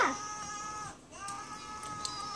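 A toy cat gives two short electronic meows with a brief pause between them, moderately loud and close, with no talking over them.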